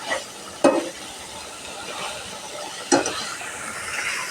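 A spiced mixture with crushed dried chillies sizzles in a pan as it is stirred: a steady close hiss broken by two sharp clanks of the utensil.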